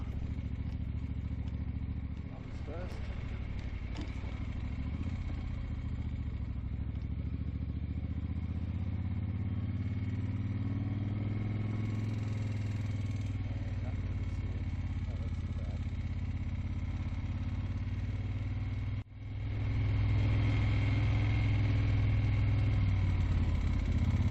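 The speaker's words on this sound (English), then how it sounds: "is there anything better than riding a bike like this along a road like this?" A 1972 Eldorado motorcycle rides along a cobbly, potholed road, its engine droning steadily with rattles and clatter from the rough surface, loud and continuous throughout.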